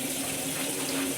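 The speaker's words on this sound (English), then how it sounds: "now I'm in the bathroom getting some water from the sink" Tap water runs steadily from a bathroom sink faucet, a constant close hiss with no talking.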